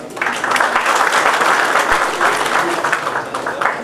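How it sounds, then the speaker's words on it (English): A crowd applauds the cast and crew at a movie launch event, sustained loud clapping from many people filling the room, steady and dense with faint cheering mixed in. "let's have the applause coming, ladies and gentlemen"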